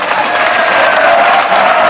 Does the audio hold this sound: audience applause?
yes